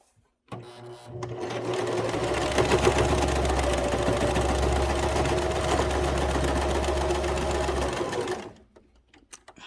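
A sewing machine stitches a curtain quilt, running in one continuous steady mechanical whir for about seven seconds after a brief start, close and loud, then stopping.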